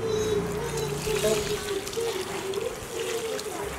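Hot water poured onto goat intestines in a home kitchen, a steady splashing trickle heard close up, with a faint tonal hum underneath.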